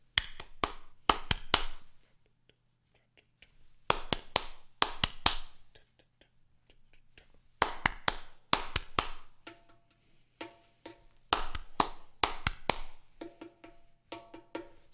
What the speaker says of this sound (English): Now just clap it.